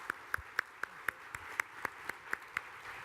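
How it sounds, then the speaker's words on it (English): Sparse audience applause after a conversation at a talk event, with about a dozen separate, evenly spaced claps sounding faint and thin over a quiet room. "Everybody, please give Christina a round of applause."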